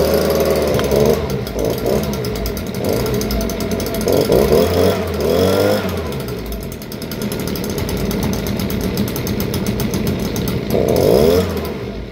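Stihl BG56 handheld leaf blower on full choke, cranked with a pull cord: a loud, close two-stroke engine note that rises in repeated surges, sputtering and revving unevenly as it catches and tries to run.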